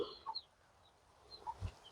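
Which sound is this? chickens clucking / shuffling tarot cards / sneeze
chickens clucking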